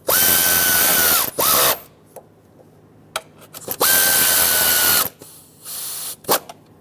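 A power driver tightening the 10mm-headed fuel rail screws on the intake manifold of a 5.7L V8 Dodge Ram 2500, two close, loud whirring bursts with clicks and ratcheting sounds between them.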